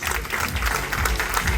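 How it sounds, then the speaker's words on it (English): An audience at a university's first convocation ceremony in Nadiad, Gujarat, claps in a dense, steady burst of applause. "and last, huge round of applause."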